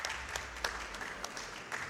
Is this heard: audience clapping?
yes